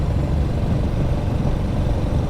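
A Royal Enfield Classic 350 motorcycle engine runs steadily at a low, even throb, close by, with no voices.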